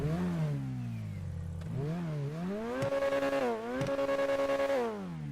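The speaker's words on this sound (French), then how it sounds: "joli petit bruit de Ferrari" A Ferrari F812 engine in GTA 5 revs repeatedly, climbing and dropping in pitch with a sharp crackle at each peak, loud and close with no talk.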